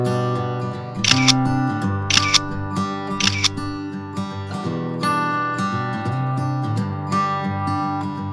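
A camera shutter fires three separate crisp clicks about a second apart during a rooftop balloon photo shoot in New York City, heard over steady background music.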